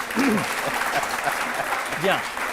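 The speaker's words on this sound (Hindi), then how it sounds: "इस पर ताली बजा दीजिए आप लोग।" A studio audience on a televised courtroom-style talk show applauds, a steady wash of clapping with a voice briefly speaking over it.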